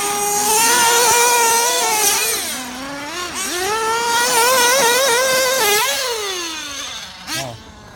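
A Novarossi R.28-7M nitro RC engine running on a stand, a loud, close, high-pitched buzzing whine that rises and falls as the throttle is worked, then drops off near the end.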